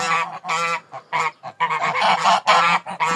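Goose honking repeatedly up close, a loud series of harsh, nasal honks in bursts with brief gaps between them.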